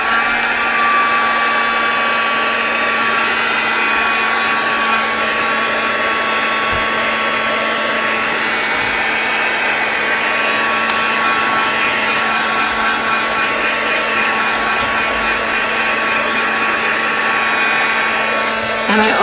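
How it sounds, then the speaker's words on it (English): A heat gun blows a steady, continuous whirring roar while drying a paper junk journal page, close and loud, with no break for almost twenty seconds. "So we had that heat gun out. Let's also dry this up."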